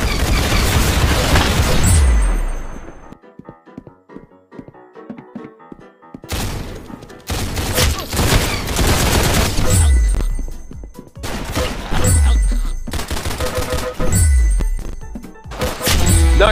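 Gunfire and booming shots from the online shooter game Arsenal, coming in loud repeated bursts with short quiet gaps between volleys.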